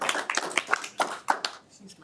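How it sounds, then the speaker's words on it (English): A school board meeting audience claps in a short, scattered round of applause, the individual claps fairly close and tapering off after about two seconds. "Round of applause."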